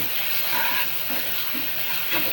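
Spiced masala paste frying in a little oil in a home kitchen gives off a steady, close, broadband sizzle that holds at an even level throughout, with no talking.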